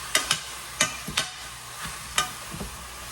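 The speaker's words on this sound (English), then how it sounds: "that sizzling sound when the meat hit the pot" Oxtail meat hitting a hot pot sets off a series of sharp sizzle bursts, loud and close, each fading quickly between quieter stretches.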